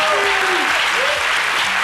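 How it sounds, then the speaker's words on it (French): Loud, dense applause from a French television studio audience greeting Jessica Bamba, a steady wash of clapping that holds for the whole stretch, with a voice briefly audible over it. "Merci de lui décerner des applaudissements bien fournis"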